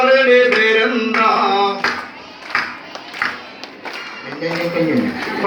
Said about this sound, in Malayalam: കൈയടിച്ച് പാടിയേ